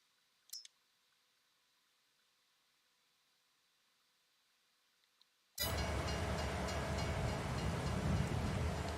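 A train starts up in Farming Simulator 22, shifting from near silence with a couple of faint clicks to a sudden, loud, steady broadband rumble and clatter that continues without a break, with no talking.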